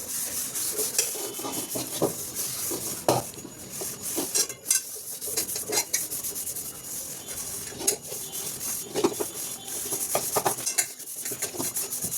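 A wok is scrubbed by hand while dishes are washed, producing close, irregular scraping and rubbing strokes with occasional metallic clinks of pots and utensils and no talking.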